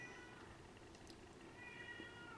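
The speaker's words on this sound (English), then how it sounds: "my little pussycat is meowing" A pet cat meows twice, a short faint call and then a longer drawn-out meow near the end, over a steady background hiss in an indoor room.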